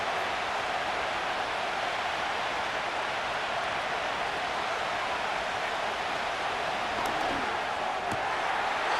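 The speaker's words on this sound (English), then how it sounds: "This crowd trying to be a factor, getting very loud now." Stadium crowd in Madden NFL 25 during a high school football game, a steady dense roar of cheering that holds loud and unbroken throughout, with no commentary over it.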